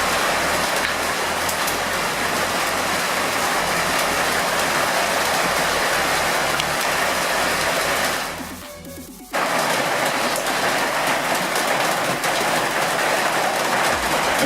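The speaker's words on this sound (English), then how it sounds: "excuse the rain on the roof" Heavy rain drumming steadily on a shed roof, a dense hissing patter that briefly dips and muffles before returning just as loud.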